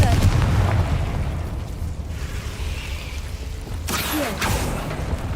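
Confringo blasting-spell explosions from the Hogwarts Legacy video game, heard as a rumbling boom with a second burst later, moderately loud over a low background.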